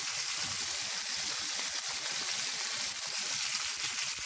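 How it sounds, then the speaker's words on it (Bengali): Fish frying in an old, well-worn kadai gives a steady, dense sizzle with constant crackle, close and loud and unbroken, with no talking. "আর এই পাশে আমি মাছ ভেজে নিচ্ছি।"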